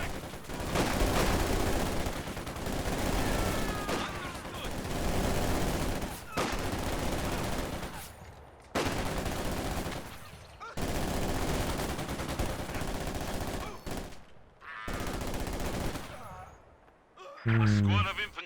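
Bursts of small-arms and machine-gun fire from an infantry ambush in the Company of Heroes 2 strategy game, loud rattling volleys in several long stretches separated by brief pauses, with a commentator talking over the battle.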